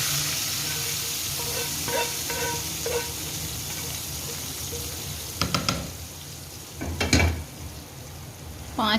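Food frying in a pan while kadhi pakora is made: a constant close sizzle with occasional stirring clatters, a busier burst of scraping near the end, and no talk.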